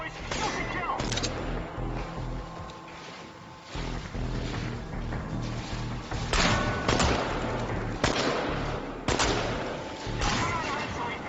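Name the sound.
gunfire in the video game Chernobylite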